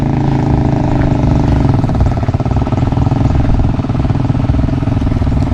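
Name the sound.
engine running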